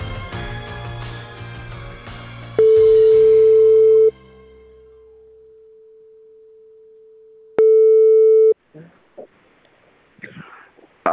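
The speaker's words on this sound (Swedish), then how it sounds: "Alexandra, så ska vi ta och ringa upp honom nu, tänker jag." Two long steady telephone ringback tones sound loud and alone on an outgoing call to a radio listener, separated by a quieter hum, after music fades; faint voices follow the second tone.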